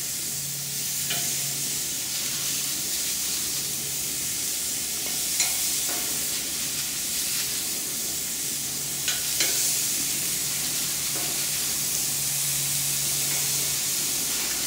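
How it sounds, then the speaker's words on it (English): LA galbi, Korean BBQ marinated beef ribs, searing over high heat on the hottest part of a grill, giving a steady close sizzle and hiss with a few faint pops and crackles throughout, and no talking. "Now I've got the fire on high because you just want to sear these."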